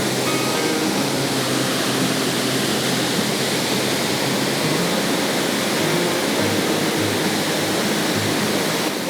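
Panther Creek Falls, a hidden waterfall in a Washington forest, roars as a dense, steady rush of falling water, loud and continuous with no breaks.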